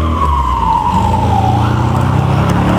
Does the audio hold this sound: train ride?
no